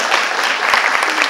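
Audience members at an AAPI panel discussion clap steadily in a short, dense burst of applause, close and evenly sustained throughout.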